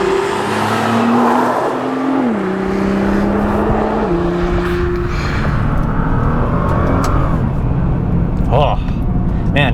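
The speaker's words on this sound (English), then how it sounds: "even with the stock exhaust, it is a little muted, but the engine still sounds really good" A 2013 Nissan GT-R Black Edition with its stock exhaust hums under load, a somewhat muted engine note whose pitch holds, then shifts through gear changes, steady and close, with someone talking over it.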